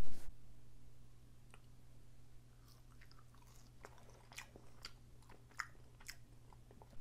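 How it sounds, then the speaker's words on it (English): Close, quiet chewing of French fries dipped in barbecue sauce: soft crunches and wet bites scattered over a low, constant hum. "I was told you need to dip the French fries in the sauce."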